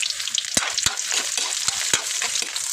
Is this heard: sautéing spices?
yes